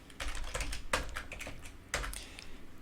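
Fast clicking keystrokes on a computer keyboard, close and steady with a few louder taps, no voices.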